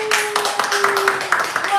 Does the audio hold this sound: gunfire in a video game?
no